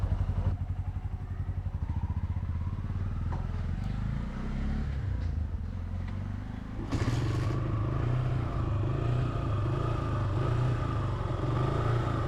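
A Suzuki Gixxer 150 motorcycle starts up, its engine catching after some mechanical clatter and settling into a steady, close idle that runs loud and continuous to the end.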